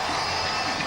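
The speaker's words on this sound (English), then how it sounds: "What about the response from the crowd there?" Rugby league crowd in a stadium roaring and cheering in the final minute of Ireland against Papua New Guinea, a dense, loud, continuous wash of noise.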